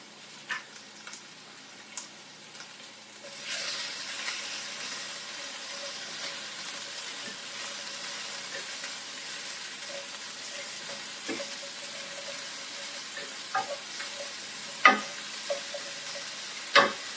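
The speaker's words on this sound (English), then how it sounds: "we're gonna let that all saute together" Chicken pieces and vegetables, including sweet potatoes, sauteing together in a pan: a quiet, even sizzle starts a few seconds in and holds steady, with a few faint clicks and taps from utensils and no voices.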